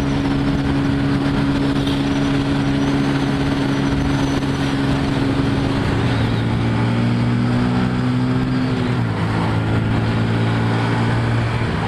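A Hero Ignitor i3S 125cc motorcycle engine hums steadily while riding, with a constant drone whose pitch dips and shifts near the end, alongside rushing wind noise, loud and close with no voices.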